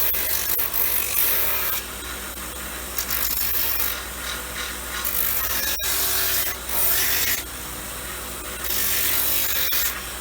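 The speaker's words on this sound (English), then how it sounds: "keep these well back when you're grinding, keep your fingers on there so you don't hit the leather." A power grinder works the leather edge of a sandal orthotic, a loud, steady abrasive whirring rub that runs almost continuously with brief dips in pressure.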